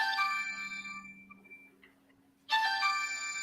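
A phone ringtone chimes in repeated electronic tones, fading out and then starting again loudly, set against the hum of a boxing broadcast.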